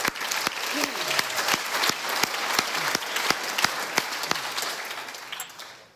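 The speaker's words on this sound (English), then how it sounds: "So let's give Pat a round of applause" An audience at an Alcoholics Anonymous anniversary meeting claps steadily for several seconds, mid-distance, before the applause fades out.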